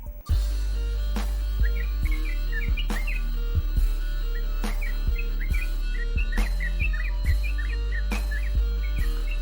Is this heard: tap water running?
no